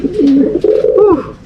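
A racing pigeon gives a single loud, close coo, a throaty rolling call lasting just over a second with no other sound around it.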